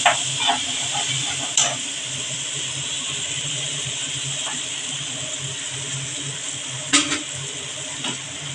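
Water poured from a rinsed spice bowl into a hot pan of cumin, chilli and coriander powders on a lowered gas flame sizzles and hisses steadily, with a few sharp bursts and stirring clatters.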